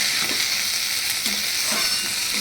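Boiled moong dal stir-fried with spices and ridge gourd in a pan, a loud continuous sizzle with soft stirring scrapes close by.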